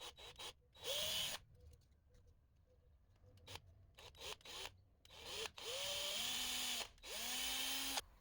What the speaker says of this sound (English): drill the holes where the twist wire connections will be inserted